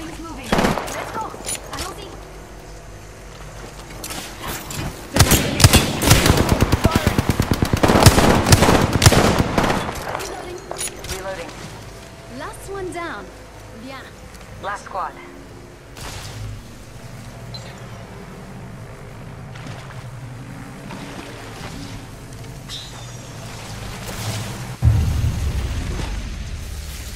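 Gunfire and explosive combat noise in the battle royale game Apex Legends, with a dense burst of rapid shots and booms in the middle, quieter scattered fire afterward and a low blast near the end, under game voice callouts.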